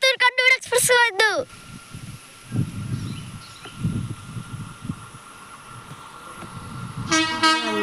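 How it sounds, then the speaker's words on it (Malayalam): Coimbatore–Kannur Intercity express train passing a station, a loud two-tone horn blast followed by a low rumbling roll of wagons and another horn at the end, with someone talking over it. "ഗെയ്സ്, കോയമ്പത്തൂർ കണ്ണൂർ എക്സ്പ്രസ് വന്നു"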